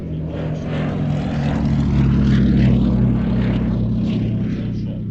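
A propeller aircraft flies past at the Fly Navy airshow, its engine a loud, steady low drone that swells slightly toward the middle and eases off, continuous throughout.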